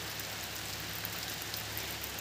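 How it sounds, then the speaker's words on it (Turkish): Rain pours down outdoors on a garden of flowers and succulents, a dense, steady hiss that stays loud and even throughout with no voices. "İnanın videoya başladığımda bu yağmur hiç hesapta yoktu."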